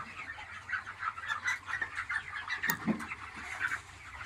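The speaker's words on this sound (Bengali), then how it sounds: "মুরগিগুলো" Chickens on a poultry farm cluck and chatter in a steady, fairly quiet stream of short calls from a flock nearby.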